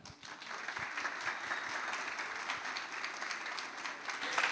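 An audience applauds steadily throughout, a dense, even patter of many hands clapping that swells slightly toward the end.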